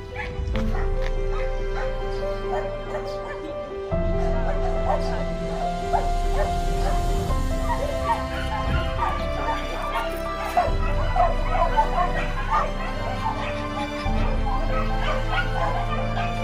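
Dogs at a rescue and rehoming center bark, yip and whimper in overlapping bursts, loud and close, with steady background tones running underneath throughout.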